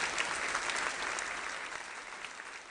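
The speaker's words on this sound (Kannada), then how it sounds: "ಹಾಗಾದ್ರೆ ಒಂದ್ಸತಿ ಜೋರಾಗಿ ಚಪ್ಪಾಳೆ ಕೊಟ್ಬಿಡಿ" An audience claps at a ladies club inauguration in Shivamogga, a steady burst of applause from many hands that tapers slightly toward the end.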